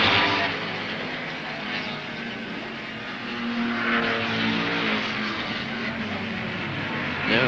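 Improved production touring cars race through fast sweeping bends at Warwick Farm in 1971, a steady, dense roar of several engines blending into one continuous drone, loud and sustained throughout.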